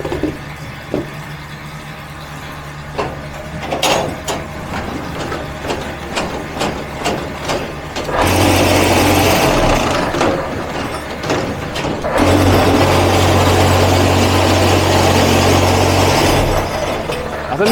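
A concrete block making machine runs with clattering mechanical knocks, then shifts into two long, loud stretches of steady vibrating roar with a low hum, stopping and restarting between them.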